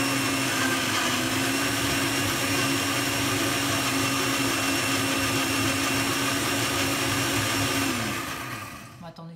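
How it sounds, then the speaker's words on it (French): A kitchen blender runs loud and steady, whirring continuously as it mixes ingredients for several seconds, then winds down abruptly near the end. "Donc, vous mettez dans le blender, n'est-ce pas, avec mon accent English, dans le blender que vous allez mixer."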